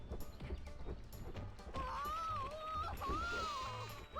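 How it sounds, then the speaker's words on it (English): Sheep bleat in the video game Shrek Smash N Crash Racing, with two wavering cries standing out over constant game noise and engine hum. "Also sheep that you can hit is in flying."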